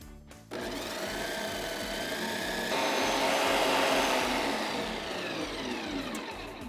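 A food processor grinds granulated sugar into powdered sugar, a loud steady whirring motor with a gritty rushing texture that swells slightly midway and runs throughout, with no talking.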